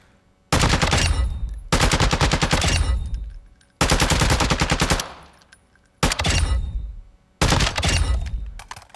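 APC 300 rifle chambered in 300 Blackout firing in Call of Duty Modern Warfare II: five loud, close full-auto bursts, each a rapid rattling stream of shots lasting one to two seconds, separated by brief pauses.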